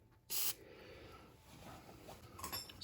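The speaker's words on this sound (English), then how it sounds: "I'll spray this with a bit of liquid wrench." A short, sharp hiss of Liquid Wrench penetrating oil spraying from an aerosol can close up onto a steering rack part, followed by quiet handling noises and a second brief spray burst at the end.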